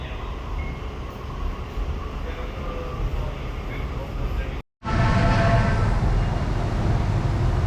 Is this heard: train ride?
yes